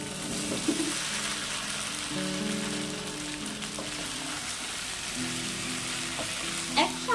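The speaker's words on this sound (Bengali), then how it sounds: "সঙ্গে আরো পাঁচ মিনিট কষে নেব" Fried jackfruit and potato cooking down in a spice paste, giving a steady sizzle with scraping stir strokes, close and moderately loud, with a brief clatter near the end.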